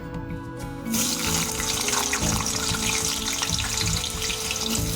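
Potatoes hitting hot mustard oil in a wok for a home-style potol chingri: a quiet start, then a sudden loud, dense hiss of frying that stays steady and close to the end.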